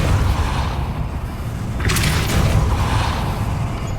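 A Depulso spell cast in the video game Hogwarts Legacy, a brief burst-like whoosh near the middle over a steady game background rumble.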